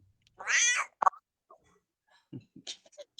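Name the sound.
cat meowing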